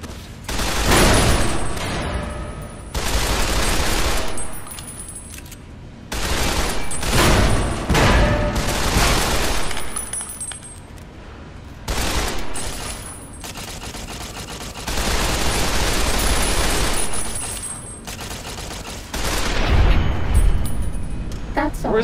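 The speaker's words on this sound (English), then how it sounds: "let's try the assault carbine" Repeated bursts of assault carbine fire from Fallout: New Vegas, in the Old World Blues DLC. Several loud, rapid volleys come in clusters of one to two seconds, separated by short pauses, with a voice talking between them.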